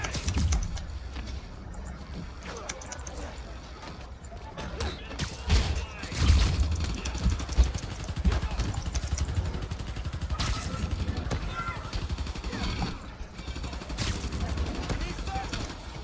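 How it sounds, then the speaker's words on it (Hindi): Bursts of gunfire from enemies in the Spider-Man Miles Morales video game rattle and thud at moderate level amid game effects, with a player talking over the action. "क्या क्या बहुत गोलियां चला रहा है।"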